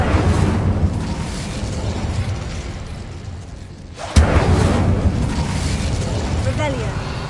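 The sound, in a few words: Incendio fire spell in Hogwarts Legacy video game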